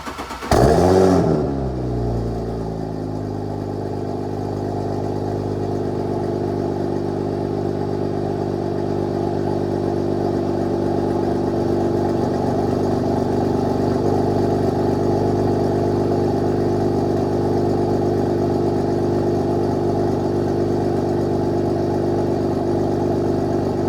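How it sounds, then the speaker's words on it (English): Audi S4 cold start: a sharp crank catches and the engine flares loudly, then settles into a steady, even idle that holds close and continuous for about twenty seconds. "Let's do a cold start on the S4."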